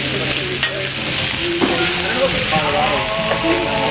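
Meat sizzles loudly in butter and olive oil on a flat-top griddle, a dense, close hiss with scraping stirs and a few brief pops, and a voice speaks faintly beneath it.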